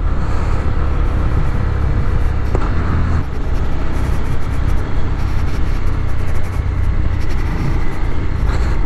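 A car drives through empty Paris streets at night, its engine and tyre rumble loud, close and unbroken throughout, with no other traffic standing out.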